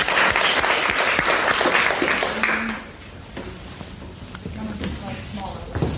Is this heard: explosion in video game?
no